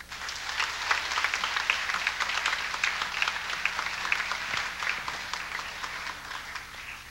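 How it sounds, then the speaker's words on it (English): A college concert audience applauds a guest artist during a fall concert, steady full-house clapping sustained throughout at moderate loudness without pause. "Please give a warm round of applause to our guest artist"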